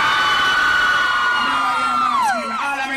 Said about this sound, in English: All of my ladies, scream for me now.